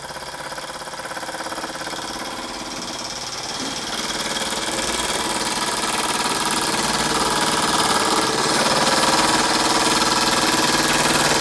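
A Wilson Brothers small vertical-boiler model steam engine runs steadily with a fast, even mechanical chatter and hiss, close by and growing slightly louder, with no talking.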